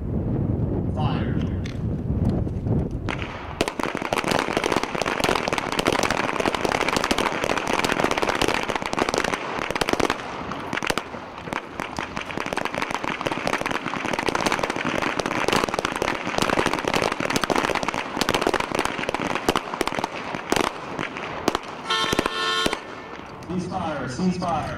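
Army combat pistol shots fired on an outdoor shooting range, a dense run of sharp cracks over steady wind noise, loud and close, with range commands spoken in the background.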